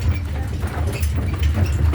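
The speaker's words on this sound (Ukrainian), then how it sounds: "Вже трамвай в парк їде пустий." A tram rumbles past steadily, a low continuous rolling drone with faint rattling on top, fairly close and with no talking.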